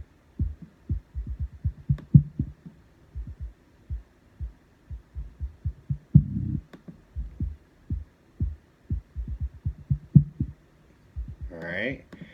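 Bass kick drum run through a compressor in a music production session, a steady series of punchy low thumps with a brief burst of other sound at the end.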